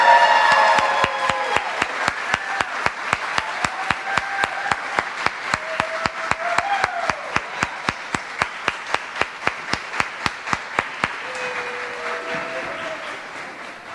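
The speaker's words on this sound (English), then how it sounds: "a huge round of applause" An awards ceremony audience claps in a regular, rhythmic beat, steady sharp claps that slowly fade, with voices and faint cheers mixed in.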